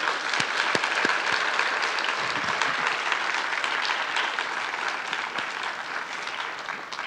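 Sustained applause from a lecture audience for the speakers at a museum panel on the Dunhuang cave temples, a dense even wash of many hands clapping in a large room, steady throughout with a few sharper claps early on.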